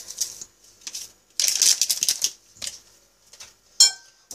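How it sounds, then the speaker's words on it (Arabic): A hand whisk stirs flour and baking powder into cake batter for a layered cake, giving irregular bursts of light clicking and scraping against a bowl, close and fairly quiet, with pauses between strokes. "ودا غنخلط غير عادي بالفوي ديال اليد عادي."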